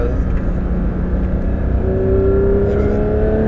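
Porsche 991 GT3 RS engine pulling hard on the Dijon-Prenois circuit, a loud, steady drone with a tone rising as revs climb, heard from inside the car with continuous wind and road noise.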